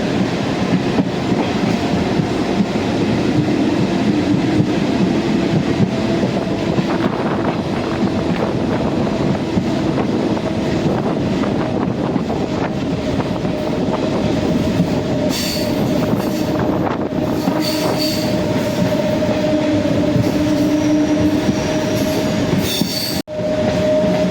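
An Indian Railways train runs between Dandeli and Alnavar, a loud constant rumble of wheels on track with rhythmic clatter and faint squealing, heard from on board.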